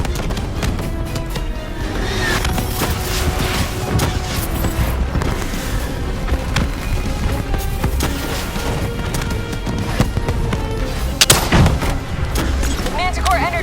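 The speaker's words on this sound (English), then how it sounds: "Javelin missiles incoming!" Continuous heavy gunfire and booming missile impacts roll through a Call of Duty Black Ops battle, dense and loud throughout with a sharper blast near the end and shouted voices mixed in.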